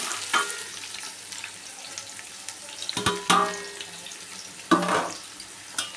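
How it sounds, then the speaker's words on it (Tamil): Onions with whole green chillies frying in a pan for Hyderabadi biryani give a steady soft sizzle, broken by a few louder scraping stirs near the middle and end. "வெங்காயம் நல்லா கொஞ்சம் ப்ரௌனாக வதங்கணும்"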